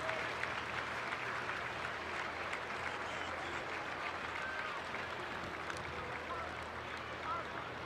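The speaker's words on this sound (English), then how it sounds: "The remaining crowd here showing him some respect as well." A stadium crowd at a college football game between Eastern Kentucky and Louisville claps steadily for an injured player, a broad continuous wash of applause from a distance, with faint voices underneath.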